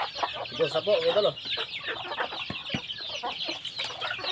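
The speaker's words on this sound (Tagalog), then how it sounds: "Dami pong manok Bisaya." A flock of native Bisaya chickens clucking and chirping close by, with small chicks among them, while someone talks over the birds throughout.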